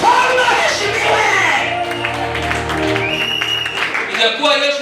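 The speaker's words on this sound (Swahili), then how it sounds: "Tumpe makofi ya shukrani baba." A church congregation applauds in thanks to Jesus, sustained clapping mixed with cheers and raised voices filling the room, loud and continuous throughout.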